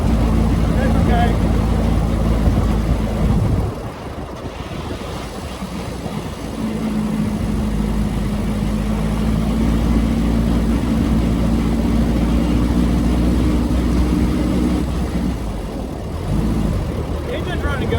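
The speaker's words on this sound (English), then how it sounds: "The engine's running good." A homemade off-road buggy with tractor tread tires runs its engine while driving, a steady loud drone that dips briefly mid-way and then continues, with someone talking over it.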